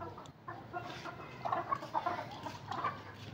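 Miniature chickens cluck softly and repeatedly nearby while a small rooster moves in to fight, the gentle clucks rising in short bursts over a low background hum.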